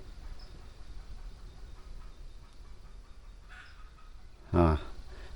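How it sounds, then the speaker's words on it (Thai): After several quiet seconds, a junglefowl gives one short, loud call over faint background noise. "นี่เสียงไก่ป่านะครับ"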